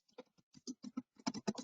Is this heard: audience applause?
no